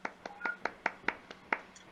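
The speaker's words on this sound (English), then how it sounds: "It's people clapping." Hands clapping during an online meetup gathering, a quick run of about nine sharp, evenly spaced claps close to the microphone, with no voices over them.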